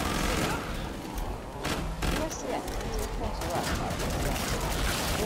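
Dense, continuous gunfire in the Killing Floor 2 video game, with rapid shots, thuds and booms blending into a loud, unbroken barrage and a voice talking over it.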